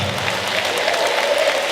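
A church congregation gives loud, sustained applause that fills the room evenly, with some crowd noise blended in.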